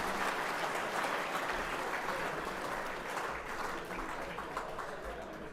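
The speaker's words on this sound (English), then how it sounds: "One final round of applause to James Below from the East Ringwood Football Netball Club." Applause for the Chandler Medal winner at the Eastern Football Netball League awards night, a broad, distant-sounding crowd clapping that stays steady and gradually softens over a few seconds.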